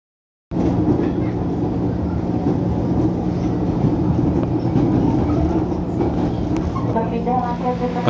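Ride aboard a KRL commuter train in Jakarta: a loud, steady interior rumble and roar of the moving carriage cuts in abruptly after a moment of silence and holds throughout, with faint rattles and tonal squeals near the end.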